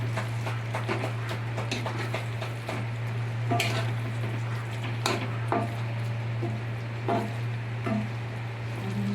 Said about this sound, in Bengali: ডিমগুলো দিয়ে দিয়েছি।